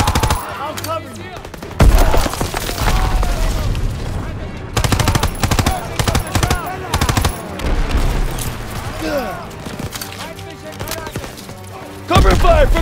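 Dense World War II battle gunfire in Call of Duty WWII: sustained machine-gun bursts and rifle shots over a constant roar of combat, loud and continuous, with shouted voices mixed into the din.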